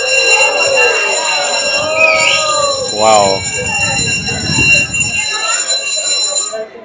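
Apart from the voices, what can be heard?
bell signalling an approaching train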